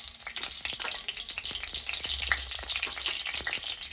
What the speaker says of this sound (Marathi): आता थोडीशी मोहरी टाकते